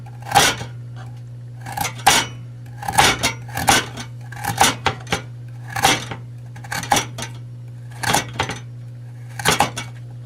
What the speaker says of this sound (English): You can see how this will chop up